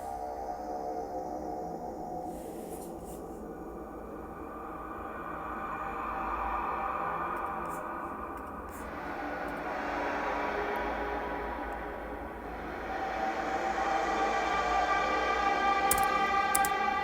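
A music sample processed through two reverbs, washed-out sustained tones with swelling and fading noisy textures, no talk, building louder toward the end.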